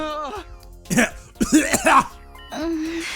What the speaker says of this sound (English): What's all the coughing?